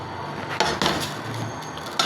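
A cooking pot is lifted in a home kitchen, making a few short clanks and knocks spaced irregularly, fairly close and moderately loud, with no talking.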